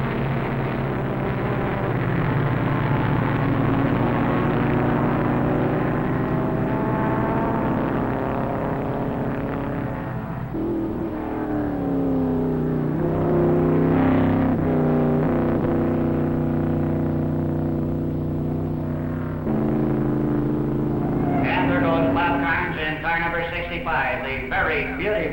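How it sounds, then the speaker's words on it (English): 1960 sports racers, among them a Bocar Stiletto chasing the leading number 62 car, drone down the straight at Meadowdale, their engines a steady, slightly distant roar that rises and shifts as cars pass, with a commentator talking over it. "The very beautiful Bocar Stiletto as he moves down the stretch, still trying to take up on the number 62, the leading car"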